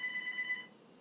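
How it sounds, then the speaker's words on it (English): A mobile phone rings with five short, evenly spaced electronic beeps that stop partway through, then a quiet room tone follows. "And that's my phone."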